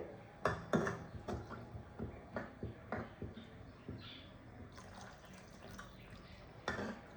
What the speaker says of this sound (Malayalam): എത്ര വെള്ളം, കറി എത്ര വേണോ അത്ര നമുക്ക് ഒഴിച്ചു കൊടുക്കാം